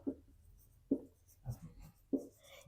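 Marker or chalk writing on a board during a physics lesson, four distinct bursts of scratchy strokes at an uneven pace, close and moderately loud with quiet gaps between them.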